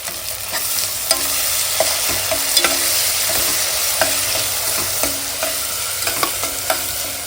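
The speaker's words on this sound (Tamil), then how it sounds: "ஒரு தக்காளி வந்து நம்ம வதக்க போட்டாச்சு" Tomato and curry leaves sauté in a hot pan, giving a steady, close sizzle broken by light scrapes and taps of stirring, with no voices.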